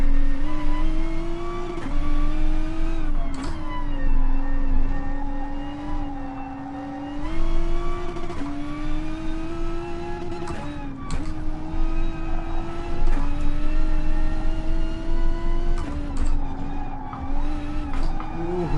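A Gr.3 race car screams around the Nordschleife in GT Sport, its engine droning loud and steady with repeated rising revs and sharp drops at each gear change, running for the whole stretch without talk.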